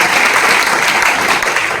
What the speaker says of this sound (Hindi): एक बार शानदार ताली